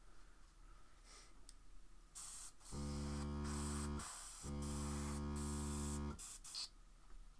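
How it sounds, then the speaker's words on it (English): Airbrush spraying Arthurian Grey paint from a loaded hopper, two sustained hissing bursts of several seconds each with a steady compressor hum underneath, close and fairly quiet, separated by a short pause. "While I've got it loaded in the hopper of the airbrush, might as well finish using it."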